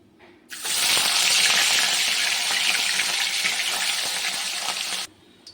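Catla fish pieces hit hot oil with a sudden, loud, close sizzle that holds steady for about four and a half seconds, then cuts off abruptly.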